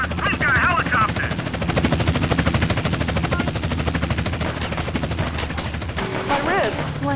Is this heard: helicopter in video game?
yes